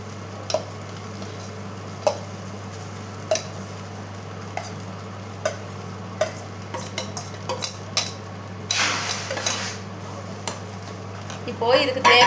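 A spoon stirs and scrapes through egg and soaked aval (poha) in a pan, giving intermittent clinks and scrapes over a steady low hum, with a short sizzling burst near the end.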